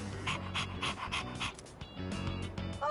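A dog in the video game Persona 3 Reload pants quickly and steadily at close range, a regular run of short, breathy huffs that briefly pauses before resuming, with no talk over it.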